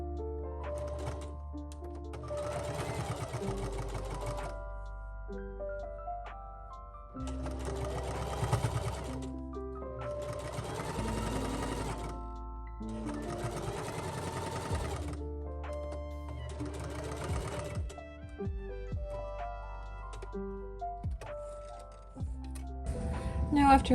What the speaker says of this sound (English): now we are going to top stitch it all around, leaving an opening about this big so we're able to turn it right side out